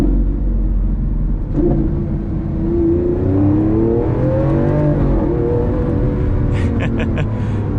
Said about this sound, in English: Sport mode, it opens up the exhaust valves. You're gonna hear some gurgles and things.